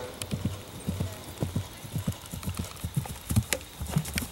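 Hooves of a 14-year-old bay Dutch warmblood horse at a horse trials cross-country course, a steady close rhythmic clip-clop of about three beats per second, loud and clear over quiet background.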